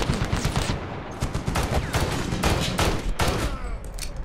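Rapid bursts of video game gunfire in Medal of Honor crackle close and loud, volleys of shots repeating in quick succession with brief gaps between them.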